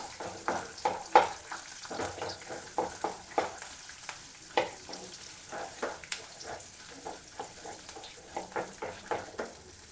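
Onions sizzling in a pan while being stirred, with soft repeated scraping strokes and light clinks over a low, steady fry, close up and fairly quiet.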